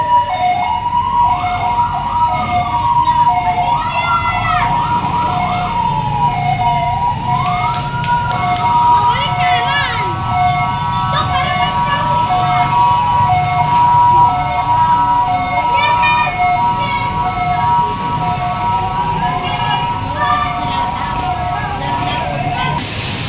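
Fire trucks and other emergency vehicles race to a fire in the Philippines, several wailing, overlapping sirens rising and falling loudly and continuously over road traffic noise, with voices occasionally heard.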